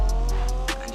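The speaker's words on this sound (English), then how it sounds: "see here, it's drifting really well" Car drifting in the Roblox game Greenville, engine droning steadily with short bursts of tire squeal rising over it, close and fairly loud.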